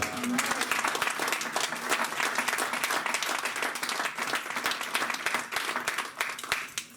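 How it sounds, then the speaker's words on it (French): A church congregation claps and cheers in praise, a dense, energetic roar of many hands with sharp individual claps standing out, continuous and loud throughout, with faint voices mixed in. "Est-ce que vous pouvez acclamer le Seigneur à nouveau?"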